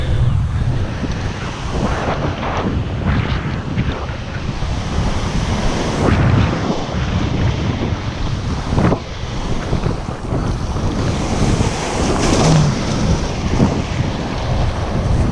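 Rough ocean waves crash and churn under steady, buffeting wind noise off the Mokulua Islands, Oahu, a loud continuous roar with surges of surf throughout.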